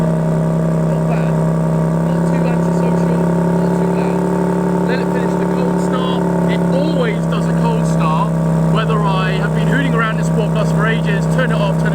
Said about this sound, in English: This is the startup, not even Sport Plus. I'm just going to start it up